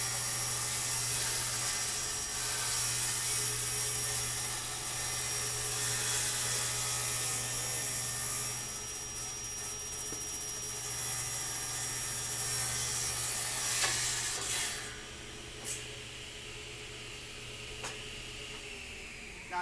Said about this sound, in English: did you hear the blade chains going through the knots?